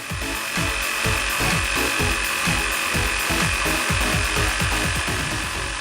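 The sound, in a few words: jigsaw cutting a 40 mm wooden slat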